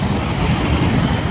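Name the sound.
train passing near a bridge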